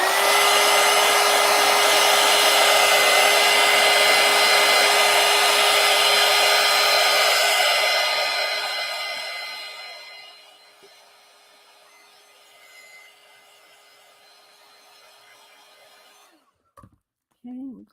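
A hair dryer blows a steady, loud close whoosh with a constant whine over wet paint on a collage, then winds down and cuts off, leaving quiet room tone and a few small handling knocks.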